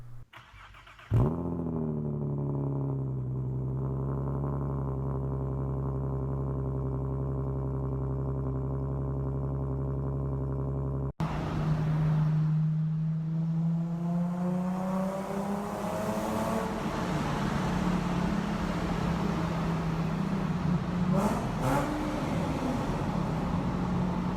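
A Nissan 370Z sports car engine starts and settles into a steady idle, then after an abrupt cut it revs up and down repeatedly, loud and close, with no voices.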